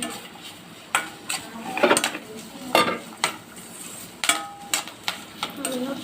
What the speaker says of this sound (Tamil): காய்கறி வதங்கட்டும்.